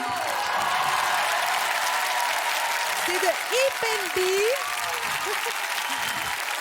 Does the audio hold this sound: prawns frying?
no